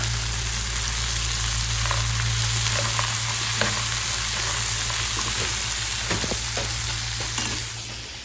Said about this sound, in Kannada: ಅದರಲ್ಲಿ ಫ್ರೈ ಆಗ್ತಾ ಇದೆ